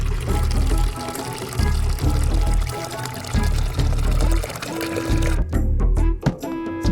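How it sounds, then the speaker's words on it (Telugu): Water pours from a jug into a bowl as a loud, steady stream over background music, and the pour breaks off near the end. "ఆ బౌల్లోకి జగ్ వాటర్ పోయాలి."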